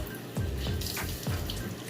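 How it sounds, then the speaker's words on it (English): Hot water is wrung out of a towel over a sink, and it sounds like a few separate splashing, trickling pours as the cloth is squeezed, fairly close and with no talking. "You're going to want to wring it out."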